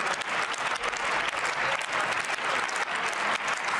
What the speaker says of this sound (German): Vielen Dank für den Beifall aus den Reihen der FDP